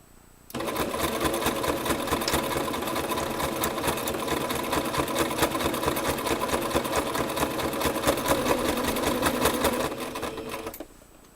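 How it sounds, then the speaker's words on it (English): A sewing machine runs steadily for about ten seconds while reverse-stitching the corners of cloth dinner napkins, a continuous close, loud, fast mechanical chatter that starts abruptly and stops near the end. "I do the reverse stitch in every single corner that way also when it's washing, that it's not going to come out."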